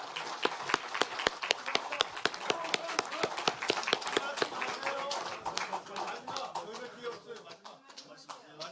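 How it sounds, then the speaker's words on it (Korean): Lawmakers at a party caucus meeting applaud their outgoing floor leader, a dense burst of close hand claps that thins and fades toward the end, with some murmuring voices mixed in. "송은석 원내대표님께도 감사의 박수 한번 부탁드리겠습니다"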